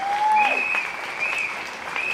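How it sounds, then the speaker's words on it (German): A crowd at an anti-poverty demonstration applauds steadily outdoors, continuous clapping at a fairly loud level with a few whistles rising above it. "an dieser Stelle auch nochmal einen großen Applaus"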